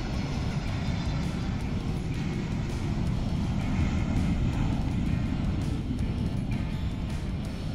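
A United Airlines Boeing 767 jet airliner roars steadily at Madrid Barajas airport with a deep, continuous engine rumble, loud and unbroken throughout, with no voices.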